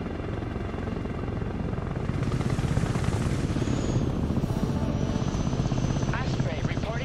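An Osprey tilt-rotor aircraft in the strategy game Broken Arrow drones with a heavy, steady rotor roar that holds loud throughout, with voices speaking over it.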